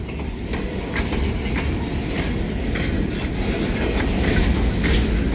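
A working locomotive train rolls past on rails with a steady rumbling roar and rhythmic clickety-clack of wheels over joints, close and continuous with no voices.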